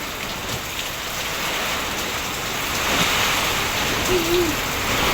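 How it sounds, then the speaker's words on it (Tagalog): Strong typhoon wind and heavy rain in Bicol roar as a dense, steady wash of noise, swelling slightly louder midway with no break. "sobrang lakas na po talaga ng hangin at ng ulan"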